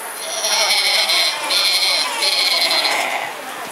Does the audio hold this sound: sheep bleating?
yes